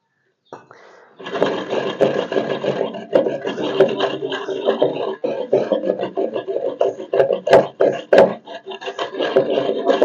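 Almonds are ground by hand into a paste for traditional thandai, giving a continuous close scraping and rubbing with irregular knocks and grinding strokes.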